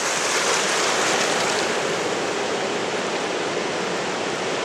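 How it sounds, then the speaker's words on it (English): Water thunders through the open sluice gates of the Dresden lock and dam on the I & M Canal, a loud, steady broadband roar that holds without pause for the whole stretch. "here's the dam and the water's thundering through"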